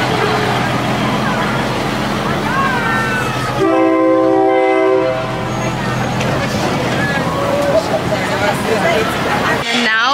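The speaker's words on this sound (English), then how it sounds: "The train just passed." A train rolls through a busy railway market, its horn sounding in steady tones partway through while a loud rumbling, clattering passage continues throughout, with crowd chatter and voices mixed in around it.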